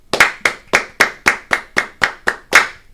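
Ten sharp hand claps, close and loud, in a steady even rhythm of roughly three per second, alone without any talk.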